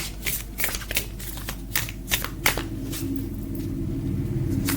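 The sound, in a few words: shuffling oracle cards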